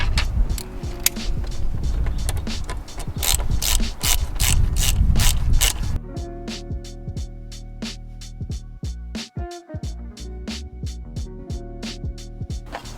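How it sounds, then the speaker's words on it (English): A ratchet tightens a hose clamp on the turbo inlet pipe of a BMW F30 during an air intake install, giving rapid, close, rhythmic clicking that runs throughout and becomes sharper and more spaced in the second half. "and then go ahead and tighten down this clamp."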